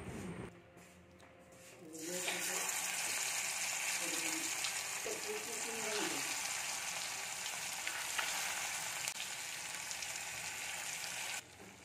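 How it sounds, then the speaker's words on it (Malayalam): Fish frying in a hot pan for a home-style fish fry, a loud, steady crackling sizzle that starts after a quieter opening and carries on close up to the end. "ഇനിയിപ്പോൾ അടുത്തതായിട്ട് മീൻ പൊരിച്ചെടുക്കാം."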